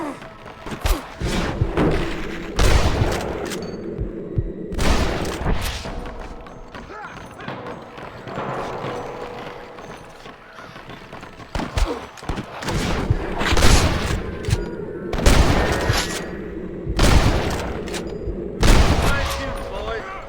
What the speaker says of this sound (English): Fine shooting, boys.